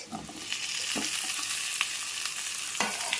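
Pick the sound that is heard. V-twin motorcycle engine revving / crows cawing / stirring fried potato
stirring fried potato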